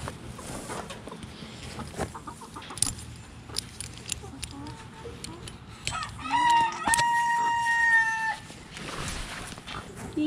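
Chickens on a goat farm call out with a rooster-like crow and clucks in the latter half, fairly close and loud, over scattered background noise and brief quiet voices.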